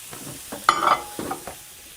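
Sausage crumbled with a utensil as it fries in a pan, giving a few scraping, stirring bursts over a soft sizzle, with a louder rustle near the middle.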